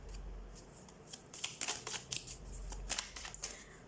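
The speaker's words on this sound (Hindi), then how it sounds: "ओके, लेट्स सी, कुछ और भी कार्ड्स हम निकाल लेते हैं" Tarot cards being shuffled and drawn at close range, with a steady murmur underneath and bursts of crisp, riffling card-slapping sounds that come in two clusters.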